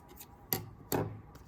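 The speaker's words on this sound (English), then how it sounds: "you fold it in half and you cut some slots, not all the way through" Scissors snip slots into folded paper: two crisp close cuts about half a second apart, with faint rustling of the paper around them.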